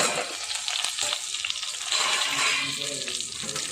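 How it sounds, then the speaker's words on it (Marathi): Brinjal (eggplant) pieces frying in hot oil in a pan, a steady close sizzle with some watery crackle and light stirring, no talk. "तेलामध्ये वांगी सोडल्यानंतर थोडंसं झाकण त्याच्यावर अगदी दोन तीन मिनटासाठी ठेवून घेऊ"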